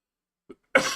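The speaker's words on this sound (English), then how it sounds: "Excuse me, I'm coughing." A single person gives a short, sharp cough up close after a faint throat sound, with quiet silence before it.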